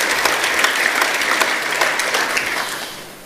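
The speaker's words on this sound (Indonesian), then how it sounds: "Kita beri tepuk tangan untuk kebenaran ini." A church congregation at a Sunday worship service applauds together, a dense, steady burst of many hands clapping that holds for about three seconds before easing off slightly at the end, with no talking over it.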